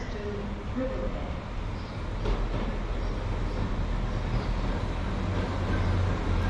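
A Northern train rolls in at Bolton station with a steady, moderately loud rail rumble and wheel noise amid open platform ambience.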